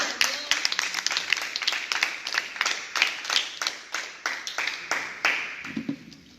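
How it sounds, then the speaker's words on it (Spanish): Congregation applauding during a church service, rhythmic group clapping in sharp bursts with a quick pulse, fairly distant in a reverberant room, fading out near the end. "Fuerte aplauso al Señor."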